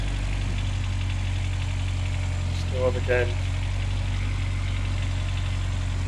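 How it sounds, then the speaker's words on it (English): Turbo Honda Accord engine idling nearby with a steady low hum and faint rattle from the upper engine head; someone speaks briefly over it midway. "Hear the upper engine head rattle. I can hear it."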